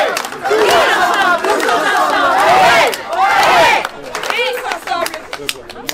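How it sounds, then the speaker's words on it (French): A large crowd at a municipal election gathering cheers and shouts loudly in rising waves, with scattered clapping underneath, then thins out to lighter clapping and chatter near the end. "on peut les applaudir"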